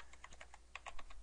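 Fingers type on a new computer keyboard in a quick, uneven run of light clicking keystrokes, close and soft, with no talk.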